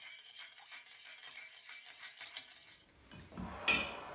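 A spoon stirs melted butter and oat drink in a pot, giving faint rhythmic clinks and scrapes that end in a louder metallic knock.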